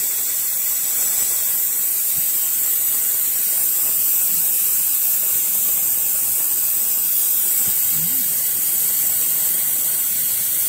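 Compressed air hisses steadily and loudly while the brakes of a 1984 Porsche 944 are bled, a constant broadband rush with no pauses and no talk over it.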